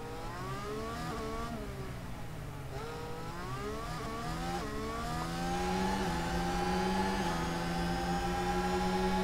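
Formula 1 race car engine in the Monaco tunnel in the video game F1 Manager 2022, a high revving whine climbing and dropping through gear shifts, then swelling louder and steadier as it holds speed, with no talk.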